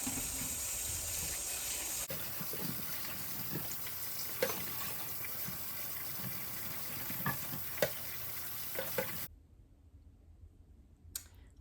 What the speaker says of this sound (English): First thing I'm going to do is give it a good wash in the sink.